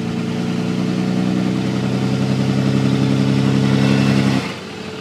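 A vehicle engine runs steadily while backing up through sand, a loud, close, even mid-pitched drone that holds for several seconds and then abruptly drops away.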